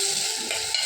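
Onions sautéing in hot oil, a brief close burst of bright crackling sizzle with a light stir partway through.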